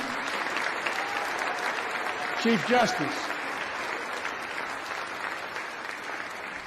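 Steady crowd applause fills a formal congressional gathering before a presidential address, moderately loud and continuous, with a voice briefly speaking over it partway through.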